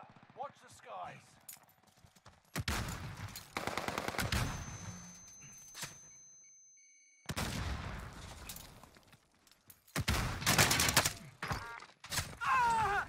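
Video game gunfire, several loud bursts of rapid automatic shots separated by quieter gaps, near and harsh, with someone talking between and over the bursts.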